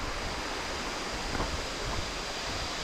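Water at Than Thip waterfall in Thailand rushes in a steady, dense broadband roar, close and continuous, with no voices.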